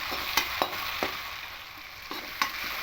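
Onion and tomato fried with salt in a pan for a carp and potato curry give a steady close sizzle, broken by several sharp scraping stirs of a spoon against the pan.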